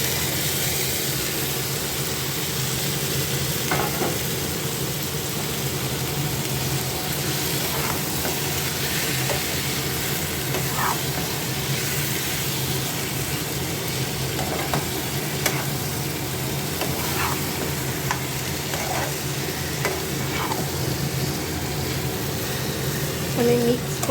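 Chicken dropped into oily, well-fried spice masala sizzles steadily and close, with occasional scraping stirs and clinks over a constant hiss, no talk heard.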